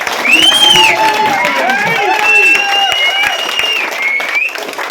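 A crowd at a political speech breaking into loud applause and cheering, close and dense, with shouting voices mixed through the clapping before it tapers off.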